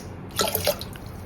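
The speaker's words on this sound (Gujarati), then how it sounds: "ચોખા અને દાળ બંને મિક્સ કરી દીધા છે મેં અને હવે હું એને એકદમ સરસ બે પાણીથી વોશ કરી દઈશ" Rice and moong dal get rinsed in water for vegetable khichdi, a short burst of close sloshing and dripping that fades quickly.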